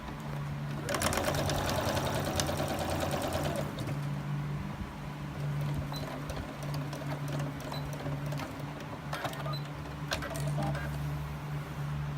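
A sewing machine stitching a small patchwork bag runs in fast steady bursts close by, with a low hum between runs and a faint cooing bird in the background.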